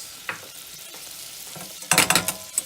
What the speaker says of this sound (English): And then you want to whisk, whisk, whisk, whisk, whisk.